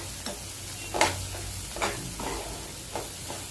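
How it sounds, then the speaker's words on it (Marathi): A spoon scrapes and taps in a hot pan while a spiced spring onion dish is sautéed, soft sizzling under several distinct stirring knocks. "मग त्याला चमच्याने जरासा परतून घ्यायचं"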